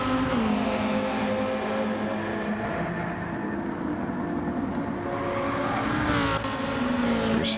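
Race cars in a sim racing league game, engines droning and revving continuously as a cluster of cars runs close together, loud and steady with gear changes and no voices.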